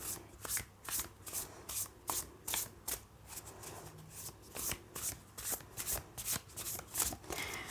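Tarot cards are shuffled by hand in close, rhythmic bursts of riffling and rubbing, about a dozen quick passes with brief pauses between them and no voices.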